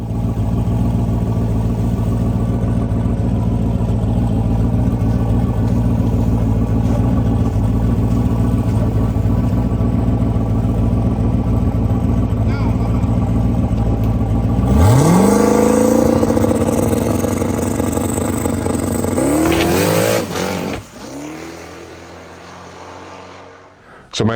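A drag race car makes a pass, its engine roaring steadily and loudly before a sharp rising rev surge, then the sound drops away abruptly as the run ends.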